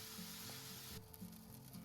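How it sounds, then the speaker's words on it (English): Rice vermicelli noodles sizzling and frying in a hot pan with soy sauce and dark soy sauce, with steady close hiss and a few scraping stirs, no voices. "turn up the heat to medium high and stir fry the noodle"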